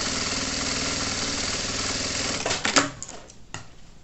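A sewing machine stitches over bias binding on a child's backpack, a loud, fast, steady mechanical whirr and rattle that slows and stops near the end with a few sharp clicks.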